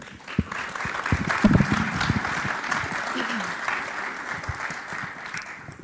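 A ShmooCon conference audience applauds to welcome a speaker to the stage, with moderately loud, sustained clapping from a sizable crowd and a few distinct nearby claps standing out.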